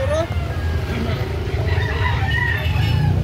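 Roosters and chickens at a market in Carbon, Cebu City, including a black-legged rooster for sale, cluck and crow faintly beneath a voice and steady crowd and traffic noise.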